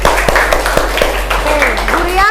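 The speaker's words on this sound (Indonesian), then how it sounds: "tepuk tangan buat kita semuanya" A class of students claps hands together in a classroom, several sharp uneven claps over a continuous low hum, with voices talking throughout.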